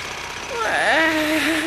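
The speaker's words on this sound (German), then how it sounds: "An dieses ohrenbetäubende Motorengeräusch, den dröhnenden Presslufthammer und die hämmernden Schläge erinnere ich mich noch" A roaring jackhammer and engine noise from a German audio drama, a loud, dense, continuous clatter that swells after half a second and holds steady, with no voices.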